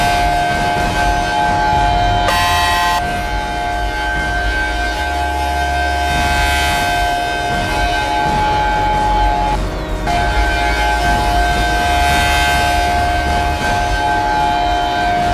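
Sirens from a New Year's event wail steadily and loudly throughout, with sustained rising and falling tones over a dense roar of background noise, and no talk.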